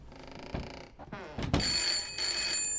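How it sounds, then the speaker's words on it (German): A telephone bell rings in the horror video game Layers of Fear, bright and metallic, rising out of eerie ambient sound and continuing in loud sustained bursts. "Oh Gott, das ist das Telefon."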